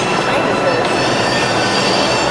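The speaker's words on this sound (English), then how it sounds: "But this is the 4 train." A New York City subway 4 train in the Bronx rumbles loud and close, with a dense roar of wheels on rails and a faint metallic squeal, steady throughout.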